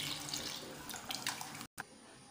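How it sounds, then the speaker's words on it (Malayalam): Water pours from above onto jaggery in a vessel, a brief close splashing trickle with a sharp cutoff near the end. "അതിനായിട്ട് ഞാൻ ഇതിലേക്ക് കുറച്ച് വെള്ളം ഒഴിച്ച് കൊടുക്കാം."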